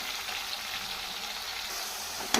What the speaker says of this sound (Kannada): ಇವಾಗ ಶುಂಠಿ ಬೆಳ್ಳುಳ್ಳಿ ಪೇಸ್ಟ್ ಹಾಕ್ತಾಯಿದ್ದೀನಿ. ಫ್ರೈ ಆಗಲಿ.